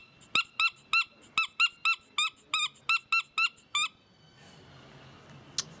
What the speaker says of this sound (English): We got a little squeaker, which is good for close range.